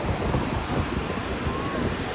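Sea waves rolling onto a beach, a continuous broad wash of surf with wind buffeting the microphone, steady and fairly loud with no talk over it.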